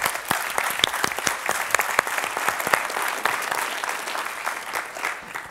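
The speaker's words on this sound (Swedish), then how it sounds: "Applåd." An audience applauds after a climate talk at a Swedish event. The clapping is dense and steady for the whole stretch, with sharp individual claps standing out from the wash.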